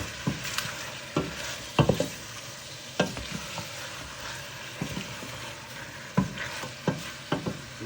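Five or six dried red chillies fry in a wok over a soft sizzle, broken by repeated scraping knocks from stirring at irregular intervals. No one speaks.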